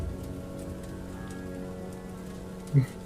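Steady, dense rain pattering on a surface as a sound effect during a Warhammer Fantasy tabletop actual play session, continuous and even throughout, with one brief soft thump near the end.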